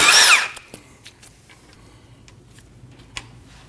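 A power tool bursts for about half a second as it works on the 10mm Allen caliper bolts on the rear brakes of a Nissan NV2500, followed by faint ticks and clicks.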